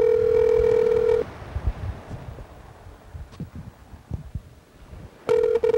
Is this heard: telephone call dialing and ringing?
yes